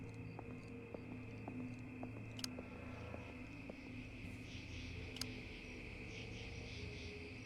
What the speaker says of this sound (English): just the sounds of outdoors, especially like that with the crickets going